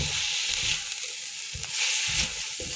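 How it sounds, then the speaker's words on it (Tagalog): Garlic, onion and ginger sizzle in hot oil in a pan, a steady close hiss with brief stirring bursts and no talk. "Ginisak siya muna. Bawang, sibuyas, luya."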